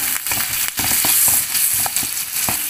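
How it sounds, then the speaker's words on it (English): Raw banana pieces frying in a pan with salt and turmeric, giving a steady, fairly loud broadband sizzle with scattered crackles and small knocks throughout, no talking. "And fry it up."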